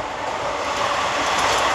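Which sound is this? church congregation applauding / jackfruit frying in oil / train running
train running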